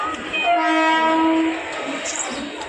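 A loud, sustained train horn blares for about a second near a station, then fades into a steady rumbling background as rain approaches.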